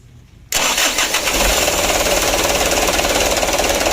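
An engine with a newly replaced injection pump cranks and catches abruptly, then runs on at a steady, loud mid-pitched idle with a rough rattling rhythm.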